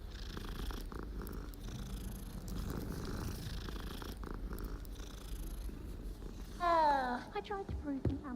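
Cat purring in the video game Hogwarts Legacy, a soft continuous rumbling purr under game ambience, followed near the end by a brief burst of higher meowing sounds, with a voice talking at times.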